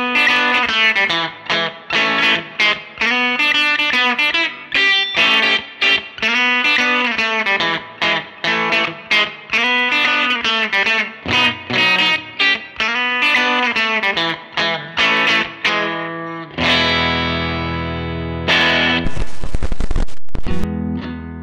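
An Eko Tero V-Nos black Telecaster-style electric guitar with vintage-style humbuckers plays a loud, driven riff of choppy repeated chords and sustained notes, ending with a few ringing strums and a brief burst.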